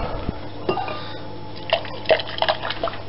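A spoon swishes yeast around in a cup for blueberry wine, making light clinks against the cup and small liquid sloshes over a faint steady hum, close and fairly quiet.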